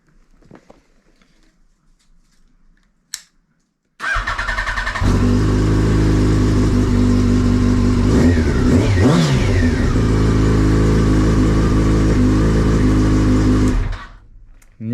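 A Yamaha FZ1 motorcycle is started after a handlebar change. Quiet handling comes first, then the engine fires, idles loudly and revs up and down close by for about ten seconds before cutting off.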